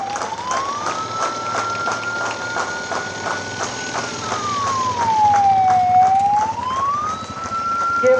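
A water mist mini fire tender and fire motorbike sound a wailing siren that rises and falls in long sweeps at a live fire demonstration during a raising day parade, loud and steady over background rumble.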